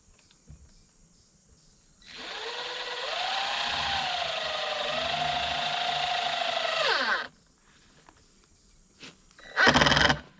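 Long screws driven with a ratcheting tool: a steady, close mechanical whirring grinds on for about five seconds with a shifting pitch, then a short, sharp burst of noise follows after a pause.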